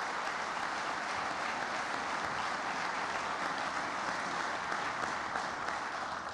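Sustained, dense applause from a large crowd at a Coahuila governor's annual report, saluting the Mexican Army and National Guard, steady and loud throughout with no break.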